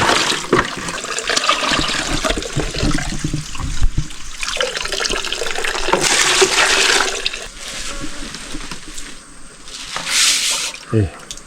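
Water being scooped and splashed outdoors, repeated sloshing and pouring surges rising and falling, close by, with voices talking over it.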